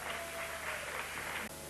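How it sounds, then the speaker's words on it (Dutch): Audience applause for the musicians of The Lords, a Mechelen dance orchestra, at a radio festival weekend event: a steady, dense wash of clapping that fills the whole moment and cuts off abruptly near the end. "Mag ik even een applaus voor die mensen,"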